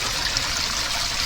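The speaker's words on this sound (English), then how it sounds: "Look at this little waterfall." A small waterfall trickles steadily nearby, a soft, continuous splashing wash with no voices over it.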